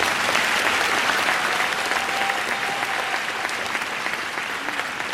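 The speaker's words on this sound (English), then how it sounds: "Please join me in giving them a round of applause." Crowd at a 2017 Riverside high school graduation ceremony applauds the graduates, steady dense clapping from many hands sustained throughout, with no voices standing out.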